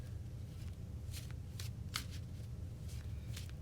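Tarot cards are shuffled and pulled from the deck, soft papery riffles and slides in a few separate bursts, close but quiet over a low background hum.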